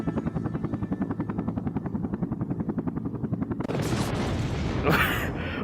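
Helicopter in the video game Air Conflicts: Vietnam, its rhythmic rotor chop giving way to a sudden burst of noise as it crashes and explodes, with a sharp blast near the end.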